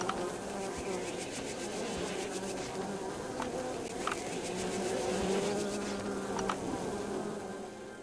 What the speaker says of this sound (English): Happy little bees.